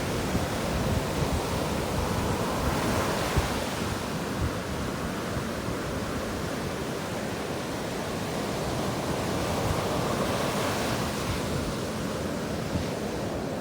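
Rough ocean surf pounds a beach, a continuous loud roar of crashing waves with gusts of wind buffeting the microphone.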